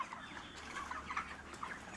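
Farm chickens cluck softly in short, scattered bursts against a quiet, steady background.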